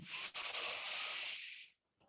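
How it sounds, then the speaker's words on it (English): A single long, deep breath during a women's breathing class, a steady airy rush lasting under two seconds, close and clear, then silence. "Three more breaths. Breathing in 1, 2, 3."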